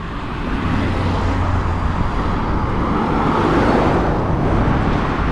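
Cars rush past on a coastal road in Lima near the cliffs and a fish market, a steady loud roadside wash of traffic swelling as vehicles pass close by, with no talking.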